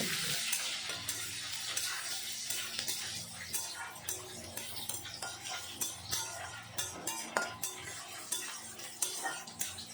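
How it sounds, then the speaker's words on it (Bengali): Chopped onion frying in mustard oil with a bay leaf, stirred with a spatula that scrapes and taps the pan in a steady, quick rhythm over a soft sizzle, close by with no talking. "পেঁয়াজটা একটু সময় নেড়ে ভেজে নেব"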